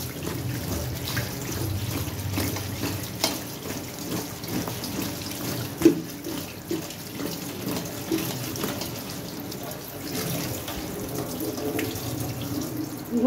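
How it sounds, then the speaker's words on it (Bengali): Cold tap water runs continuously into a sink as wild arum is rinsed under it, a steady splashing stream with a few clunks of handling and no talk. "ঠান্ডা পানি দিয়ে আবারও ধুয়ে নিচ্ছি"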